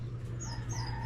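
Chickens sick with coryza cluck and call close by over a steady low hum, with short squawks and fowl noises rising and falling.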